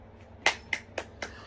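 About five sharp hand claps, spaced unevenly, each crisp and close, with quiet room tone between them.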